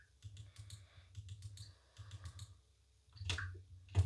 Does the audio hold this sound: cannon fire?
no